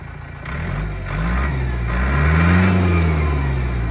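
A Mitsubishi MT 400 engine revs hard and steadily, climbing in pitch with a strong, loud, close drone and no voices.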